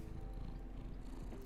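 A house cat purring steadily close to the microphone, a low continuous rhythmic rumble, quiet and alone with no talking.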